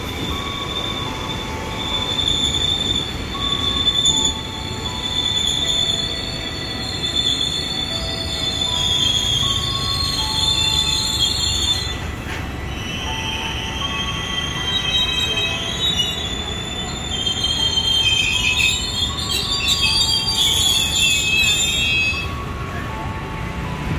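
A KRL Commuter Line train rolls past nearby at Universitas Indonesia station, its wheels squealing in high, drawn-out tones over a constant rumbling clatter.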